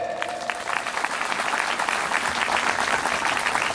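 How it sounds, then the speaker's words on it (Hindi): A congregation at a Hindi church sermon breaks into loud, sustained applause, dense clapping from many hands filling the room for a few seconds. "क्या हम उस परमेश्वर को जोरदार तालियां दें?"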